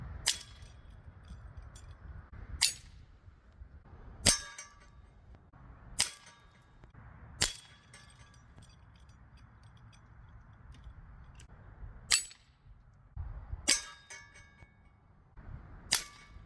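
.177 caliber air rifle pellets striking small metal targets staked outdoors, about eight sharp metallic clangs spaced a second or more apart over a quiet background.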